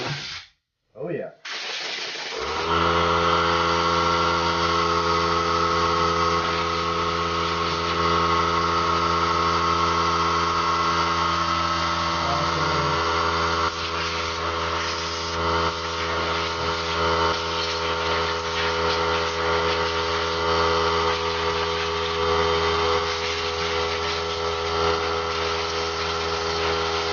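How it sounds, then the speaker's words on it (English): An air compressor starts up after a brief sputter, then runs continuously for recharging with a loud, steady motor drone and hum that holds at an even level throughout, sounding close. "compressor recharge."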